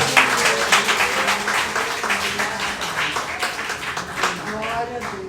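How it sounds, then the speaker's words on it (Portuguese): A church congregation at a Portuguese-language service claps together, a lively mix of hand claps, with voices audible amid the clapping. "Nossa melhor salva de palmas ao Senhor"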